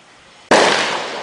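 A single sharp, loud rifle shot from a Winchester .243 on a shooting outing, breaking abruptly out of quiet and ringing off into a broad decaying roar.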